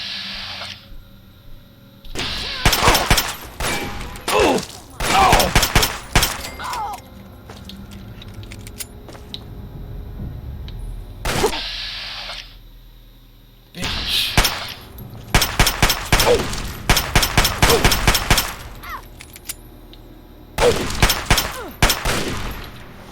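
Enemy weapon gunfire in Fallout 3: repeated loud bursts of rapid automatic shots in several volleys separated by short pauses, with metallic rattling between them.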